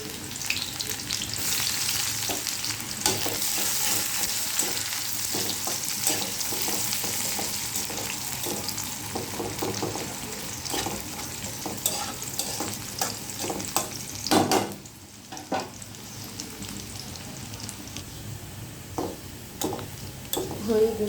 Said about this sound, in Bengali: জিরাটা হয়ে গেছে, আমি এখন পেঁয়াজ কুচি দিব।